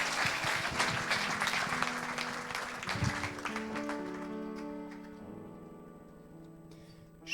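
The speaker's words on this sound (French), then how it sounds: "On peut encore l'applaudir bien fort" Audience applause at a Christian worship event, a dense wash of clapping that is loud at first then thins and fades while sustained music tones rise underneath and carry on alone toward the end.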